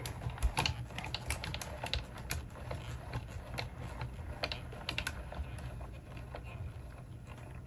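A manual die cutting machine being cranked to push paper and dies through for homemade stickers, producing a faint, dense patter of small clicks and ratcheting taps that continues steadily from start to finish.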